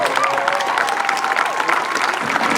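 An audience at an outdoor event claps and cheers for a Burlington City Council member, a steady wash of applause with scattered whoops running under a speaking voice.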